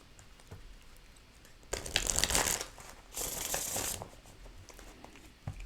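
Two bursts of tarot cards being shuffled, crisp riffling rustles close by, separated by a short quiet pause, with faint handling noises around them.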